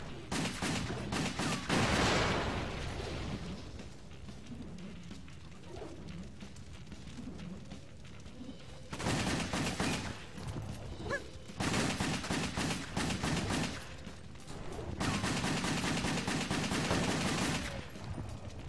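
Video game gunfire from the slow-motion shooter WET, dense bursts of rapid automatic shots coming in loud waves separated by quieter stretches, with no voices over it.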